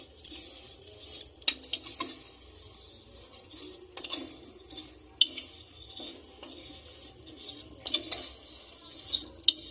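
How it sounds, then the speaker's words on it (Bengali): A metal spoon scrapes and clinks against a pan while vermicelli fries in oil over a gas flame, with irregular stirring strokes and sharp taps over a faint sizzle, close and steady. "ভালো করে নেড়ে চেড়ে নেব।"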